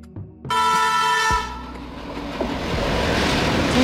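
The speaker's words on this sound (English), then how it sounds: "Tanker train. A freight train made up of tank cars designed to transport liquids or gases" A freight train of tank cars carrying liquids or gases passes close by, its horn blaring a long steady tone before the heavy rolling rumble and hiss of the wagons take over and build.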